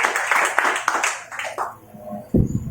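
A crowd at an Independence Day event claps in a burst of uneven, fairly close handclaps that thin out and fade over about two seconds, followed by a low thump.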